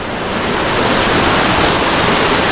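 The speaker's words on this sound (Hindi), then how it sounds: "पानी का फोर्स तो ज़्यादा है कि मेरी आवाज़ भी नहीं सुनाई देगी, मुझे चिल्लाना पड़ेगा।" Rainbow Falls, a forest waterfall, fills the air with a loud, steady roar of rushing water. The dense broadband wash stays constant and close, with no voices audible over it.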